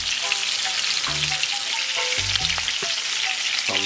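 Salmon bites for brown stew salmon frying over medium heat in a pan, a steady close crackling sizzle throughout with occasional scraping as pieces are turned.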